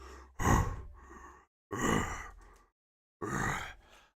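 Three deep, heavy breathy bursts, each a long rasping exhale, spaced apart like a voice imitating a large beast panting.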